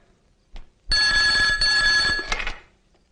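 A telephone bell rings loudly and steadily for about a second and a half in a dramatic film scene, with a brief knock just before and a short fade after.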